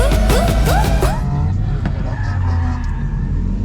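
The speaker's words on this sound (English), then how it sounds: "This is a nice vehicle you're drifting today" A Mercedes C63 drifting, its loud engine revving and wailing close by with rising pitch sweeps that settle into a steady drone, with talk over it.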